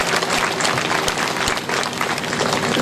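Applause from a crowd for a guest at a temple festival gathering, dense clapping sustained throughout at a steady, moderately loud level.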